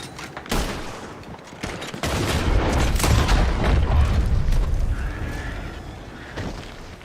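Rapid gunfire in Red Dead Redemption 2, with sharp shots and booming reports piling into a dense, rumbling barrage that runs for several seconds without talk.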